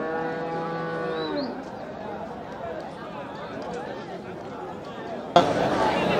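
Bull cattle at a busy rural livestock market in Kundarapalli, with a low moo early on amid crowd chatter and people talking nearby, then a sudden louder burst of noise near the end.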